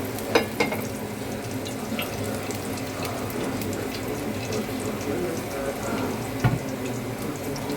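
Green chillies fry in hot oil in a kadai while cooking chicken fry, giving a steady, even sizzling hiss at moderate distance with a couple of faint clinks.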